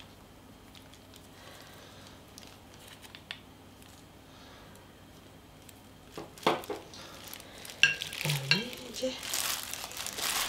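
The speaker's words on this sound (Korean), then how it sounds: "고루 또 털어가면서 섞어줘요. 소금이 골고루 섞이게." Hands toss and mix chwinamul greens with salt in a bowl: light crinkling and rustling rises after a quiet start, growing busier and closer toward the end.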